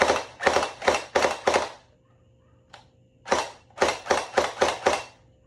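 Two bursts of sharp, rapid shots from an AKS74U gel blaster toy gun, about five snappy pops and then six, separated by a short pause, close and crisp.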